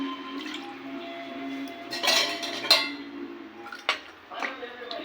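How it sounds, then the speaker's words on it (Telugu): Tamarind juice poured into simmering fish curry in a pot, brief splashy gushes and drips with light clinks from a vessel against the pan, fairly close and quiet. "చింతపండు పులుసు చేపల్లో పోసిద్దాం ఫ్రెండ్స్."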